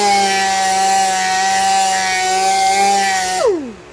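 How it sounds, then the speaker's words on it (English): A power tool drones steadily at a constant pitch while a Jaguar alloy wheel is sanded with 800 grit sandpaper, loud and close, then the motor winds down at the end. "we'll go ahead and switch over to the 800 grit"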